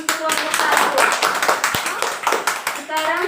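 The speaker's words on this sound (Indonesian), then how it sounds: "Mari kita beri tepuk tangan untuk kelompok" Audience applause in an Indonesian training class after a group presents its discussion results: a dense, steady patter of many hands clapping for about three seconds, fairly close and loud, with voices mixed in.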